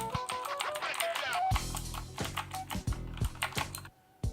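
Clicky Outemu Blue switches on a Tecware Phantom TKL mechanical keyboard, typed in a few loud, sharp bursts that follow a stretch of speech.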